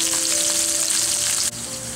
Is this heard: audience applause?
no